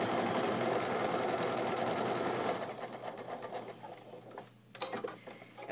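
A sewing machine runs steadily stitching a quilt block seam, a loud continuous mechanical whir that drops in level partway through and then continues more quietly with light clicks to a close.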